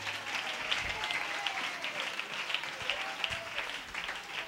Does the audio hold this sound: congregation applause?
yes